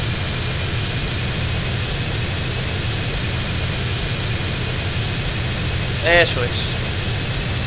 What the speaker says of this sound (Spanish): Se escucha muy fuerte el motor